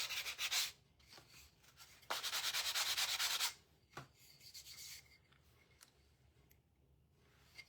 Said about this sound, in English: Give it a light sand. I always sand over my things.